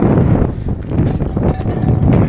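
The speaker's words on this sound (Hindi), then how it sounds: "सच में बहुत तेज़ हवा चल रही है, बहुत तेज़ हवा" Strong, steady wind buffets an outdoor microphone on a walking pilgrimage near the Narmada river, a loud continuous roar with gusting surges and no pauses.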